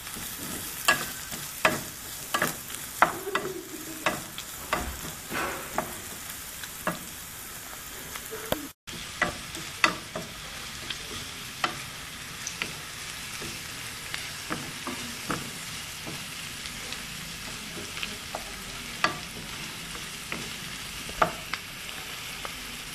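Onion or garlic frying beside pork in a pan: a steady close sizzle throughout, with frequent sharp clicks and scrapes of stirring, no speech.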